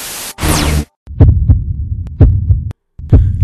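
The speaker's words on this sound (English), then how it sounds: "tune your heartbeat." Heartbeat sound effect in a movie trailer: deep, booming thumps in a slow, steady pulse, loud and close, following a rising whoosh, with short gaps of silence between sections.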